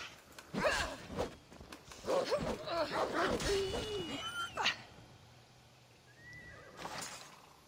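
A horse in the video game Assassin's Creed Odyssey gives a clear, shrill whinny with snorts, along with a few hoof clops and light movement sounds, then a brief faint call near the end.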